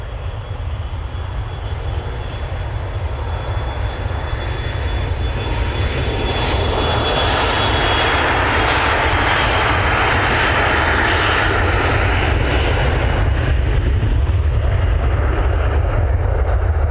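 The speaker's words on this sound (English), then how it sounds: "The Emirates is coming on, but we're going to get this BizJet." A business jet at Manchester Airport produces a loud, continuous engine roar that swells slightly and holds steady throughout, with no voices over it.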